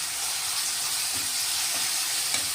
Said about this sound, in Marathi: चांगले परतून घ्यायचे मसाले